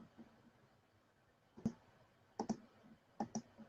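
A few quiet keystrokes on a computer keyboard come as sparse, sharp clicks in small clusters against a hushed room background.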